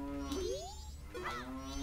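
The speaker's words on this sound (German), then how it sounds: "dafür muss jetzt einmal die Kuh schlagen" A cartoonish cow lows once in The Legend of Zelda: Majora's Mask after being struck, with a rising then wavering moo heard alone over a steady game background hum.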